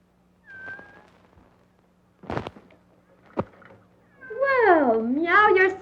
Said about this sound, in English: Well, meow yourself.